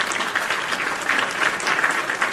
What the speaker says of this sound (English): Round of applause for the PWT universe.